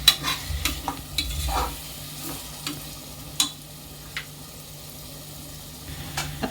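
Marinated jackfruit for biryani being sautéed in a pan, with a soft steady sizzle under repeated sharp scraping and clinking strokes of a spoon stirring, close and moderately quiet.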